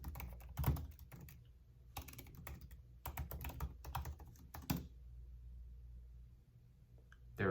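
Someone types account details and a password on a computer keyboard in quick bursts of clicking keystrokes, with quiet pauses between the runs of typing, close and clear.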